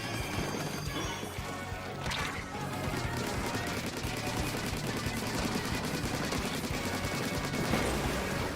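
Dense, continuous bursts of video game gunfire with rapid shots and crashing impacts, loud and sustained throughout, with some faint talk underneath.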